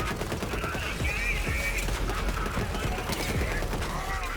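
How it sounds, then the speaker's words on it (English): Needlegun from Borderlands 3 firing in a dense, continuous burst of rapid shots, loud and close, with layered mechanical clatter and whirring tones over the whole stretch. "you shoot enemies to apply a debuff to them, and you then get a damage boost when you reload"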